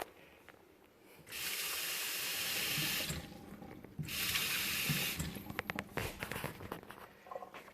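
Water gushes from a repaired Delta Touch2O kitchen faucet in two bursts of steady hissing flow, each about two seconds, followed by softer splashes and clatter in the sink.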